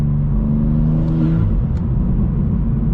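A 600 HP BMW M2 sliding through snow, its engine holding a loud, steady droning rev from start to finish with a brief rise in pitch partway through, and no voices.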